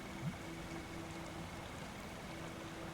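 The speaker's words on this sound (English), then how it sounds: "Waterfalls. I love the sound of flowing water." Steady flowing water from a waterfall in the video game Children of Silentown, a constant low rushing wash with faint trickling texture running evenly throughout.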